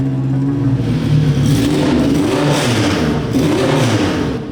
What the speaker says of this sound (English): The sound of your very expensive engine knocking.